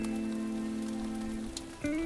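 Steady rain falls in a tropical garden in the UK during a storm. The hiss is continuous and even, with a tonal hum underneath that shifts near the end.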